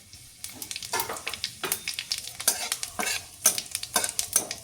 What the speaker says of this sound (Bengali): কড়াই গরম হয়ে গেছে, অল্প করে একটু সরষের তেল দিলাম আমি। হাফ চামচ পরিমাণে গোটা জিরে দিলাম।